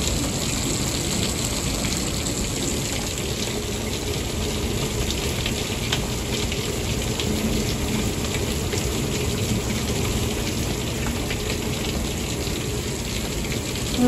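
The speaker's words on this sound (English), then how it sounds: "it's been a long, long time since we've had rain like this." Heavy rain pours down steadily for the whole stretch, a dense, constant wash of hiss and splashing with no pauses and no voices.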